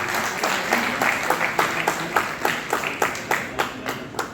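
An audience applauds a former mayor at a memorial gathering in Jhansi. The claps sound moderately close and come in a fairly regular rhythm, with individual hand claps standing out over a lighter crowd background.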